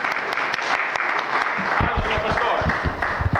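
Audience clapping at a pastors' meeting, a steady round of applause with some voices mixed in beneath it.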